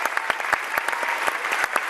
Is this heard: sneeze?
no